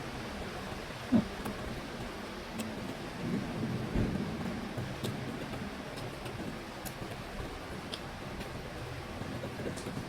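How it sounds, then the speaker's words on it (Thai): Steady rain falls with a soft, continuous hiss, and a low rumble of thunder swells briefly near the middle; a single sharp tap stands out early on, with no voices. "ยุ่งยากฝนตกแล้ว"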